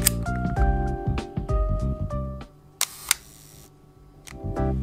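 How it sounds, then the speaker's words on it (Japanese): Leica M6 film rangefinder fired at a 1/4 second long exposure: sharp mechanical shutter clicks with a short gap between opening and closing, loud and close, amid several other camera clicks and winding noises, no talk. "ロングシャッターで4分の1のシャッターを切ってみます。"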